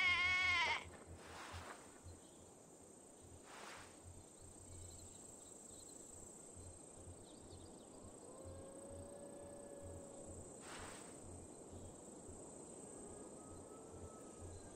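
Sheep in Assassin's Creed Valhalla give a short, loud bleat at the very start, then a quieter game soundscape follows with steady insect and cricket chirring and a few faint tones.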